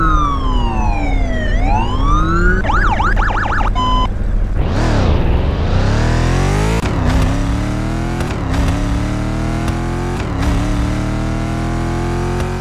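Police car sirens from Need for Speed Payback and Heat, played in Garry's Mod: a wailing sweep, then fast yelp and electronic warble patterns, followed by a loud car engine revving and accelerating in repeated surges, no talking.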